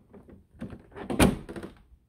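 A stuck door is struggled with and forced, giving a series of nearby rattles, thunks and scraping bumps that build to one loud knock, then a few softer clunks.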